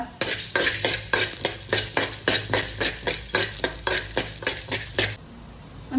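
Coriander seeds, pepper, cumin and carom seeds fry for a crab sukka masala, a spoon scraping the pan in about a dozen quick regular strokes over a soft sizzle, then stopping.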